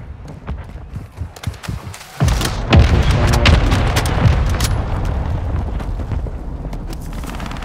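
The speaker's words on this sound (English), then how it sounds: "Mortar strike inbound now." Mortar strikes in a video game land in a heavy, rumbling barrage of booms, starting as a sudden loud blast and then rolling continuously as close, sustained explosions, with gunfire and movement sounds before.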